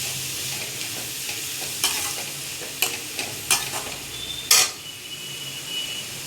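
Onions sautéing in a pan for a prawn gravy, with a steady soft sizzle and a few sharp spoon-against-pan scrapes and clinks as they are stirred, with no talking.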